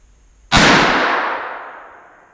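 A single loud, sharp rifle shot from a Savage Arms Model 2 in .243 firing 100 grain Nosler Partition bullets at the range, cracking close by and then ringing out in a long fading echo.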